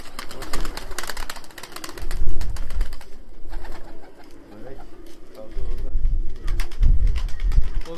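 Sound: Abdal Arab game pigeons cooing

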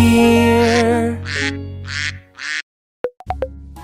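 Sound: duck quacking

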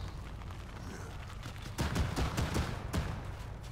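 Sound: gunfire in Arma 3, from a video game

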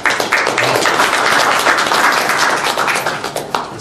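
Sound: applause from the audience

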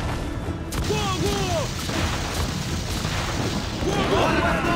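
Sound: ship cannons firing in Assassin's Creed IV video game

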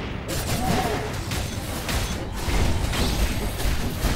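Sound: explosions in the video game Skul: The Hero Slayer

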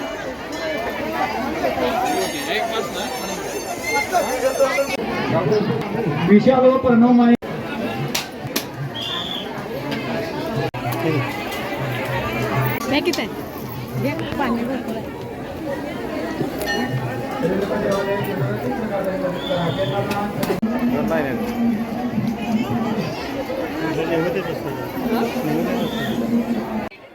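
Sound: large crowd of devotees at Renuka Devi temple

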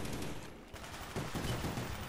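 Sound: 1911 pistol gunfire in Call of Duty Black Ops video game

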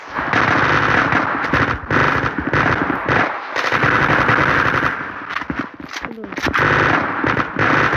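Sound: gunfire in the video game Zula

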